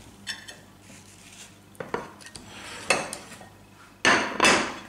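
Knife cutting potatoes on a board, a few sharp knocks and chops spaced irregularly, with a louder burst of scraping clatter near the end; no talking.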